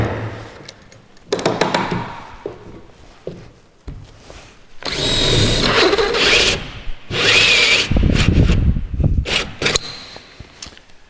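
A power drill whirs in bursts as a hole saw grinds through wood, with short pauses between longer cutting runs, close by.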